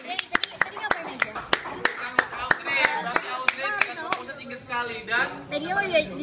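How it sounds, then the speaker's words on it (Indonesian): Students in a school hypnosis session clap in a burst of sharp, close handclaps that thins out into cheering and excited voices as the clapping fades. "Berarti tepuk tangan sekali lagi dong"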